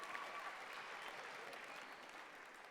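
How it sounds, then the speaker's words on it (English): Large audience of about 1200 at the Roundhouse giving a round of applause, a steady, moderately faint wash of clapping that stays even throughout. "I think we can give these guys a round of applause."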